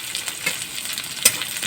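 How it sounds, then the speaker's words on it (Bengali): Diced onions sizzle in hot oil in a pan beside a bay leaf, a steady close frying hiss with a few sharper crackles and stirring touches, no talking. "এবার দেবো দেখুন ডুমু করে কেটে রেখেছি পেঁয়াজ কুচিগুলো দিয়ে দেবো।"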